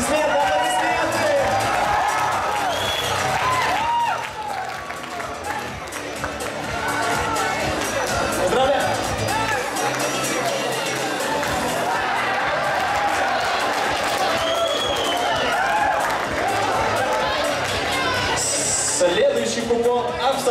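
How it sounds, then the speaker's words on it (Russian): Audience in a university hall celebrating Turkmenistan Neutrality Day keeps up sustained clapping and cheering for about twenty seconds, loud and steady with whoops and crowd voices throughout. "Аплодисменты!"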